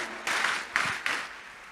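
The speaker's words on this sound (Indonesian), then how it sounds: "Boleh berikan tepuk tangan dulu yang paling meriah buat Tuhan." A church congregation applauds in worship, a warm burst of many hands clapping that surges in three waves and stays moderately loud without any voices.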